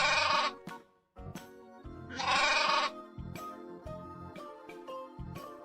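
Sheep bleat twice, loud and close, over a bouncy backing tune in a children's animal sound game.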